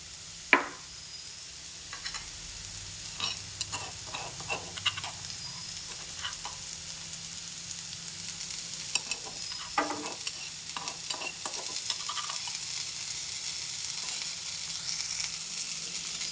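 Onions frying with crushed ginger and garlic in a pan for cauliflower masala, stirred with repeated scraping and clinking strokes over a continuous close sizzle, no talking.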